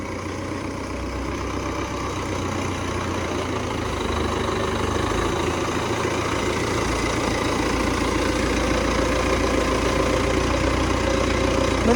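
An MTZ tractor engine idles close by, a steady heavy low rumble with a faint knocking undertone that holds constant and slightly grows louder, with no voices.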